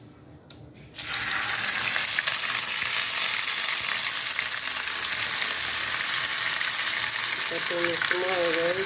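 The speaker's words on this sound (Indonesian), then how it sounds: "Bumbu yang sudah kita haluskan tadi, ini kita tumis." Ground spice paste for soto hits a hot pan and is stir-fried, starting a loud, close, continuous sizzle that holds steady after a quiet moment, with a faint voice near the end.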